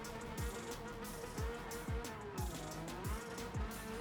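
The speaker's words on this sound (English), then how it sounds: "I drift this Porsche. Actually, I kind of can drift this Porsche." A Porsche drifting in a VR racing video game, with a steady engine drone and a series of repeated tire squeals in quick succession, fairly close and loud with no talk.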